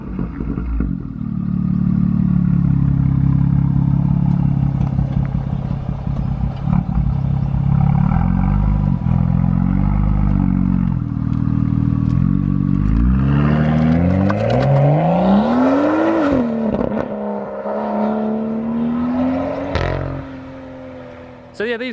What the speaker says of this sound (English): this sounds really cool with the N55 inline 6 single turbo